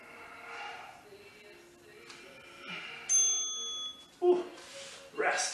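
An interval workout timer bell rings sharply several times during a strength and intervals session, bright tonal dings standing out over faint background noise and breathing.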